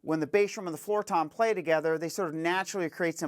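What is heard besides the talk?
None of the usual background noises is heard.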